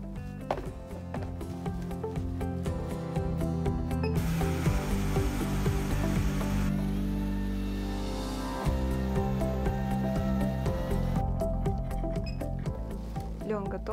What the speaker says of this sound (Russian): Сначала лен перемолю.